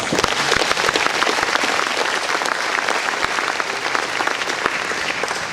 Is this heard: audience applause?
yes